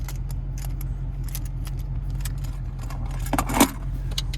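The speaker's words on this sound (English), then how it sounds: "here's the key fob with remote start" Keys on a 2026 Ford Mustang Dark Horse key fob jangling in a series of light metallic clinks, building to a brief louder rattle near the end over a steady low engine hum inside the car.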